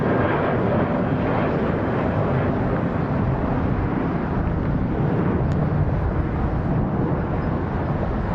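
Jet engine roar from an Airbus A321-211 airliner, four years old, at Hartsfield-Jackson Atlanta International Airport, a loud, steady broadband rumble that holds constant throughout with no talk.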